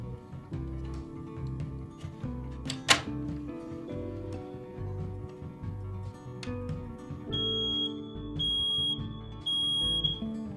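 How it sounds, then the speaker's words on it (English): A smoke alarm being tested gives a high, steady electronic beep in repeated pulses toward the end, over a background of low rumbling and clatter. "fire safety equipment like a smoke or fire alarm, and just to make sure it's working, I test it"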